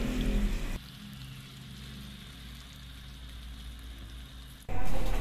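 Meat and coconut milk sautéing in a pan for a spicy shrimp-paste dish, a steady soft hiss and crackle of liquid simmering in oil, with louder clatter at the start and end and no talk.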